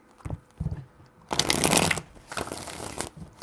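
A deck of tarot cards riffled three times in quick succession, two short soft bursts followed by a longer, louder shuffle with a final trailing riffle, close up and with no talking.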